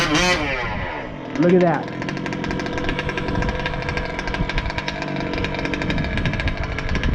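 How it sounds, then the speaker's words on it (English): A small engine fitted with an RT990 Rooster Tail carburetor idles low and steady in a dense, continuous rattling drone. Someone talks over it early on. "This girl will sit and idle all day long, man. Beautiful low idle."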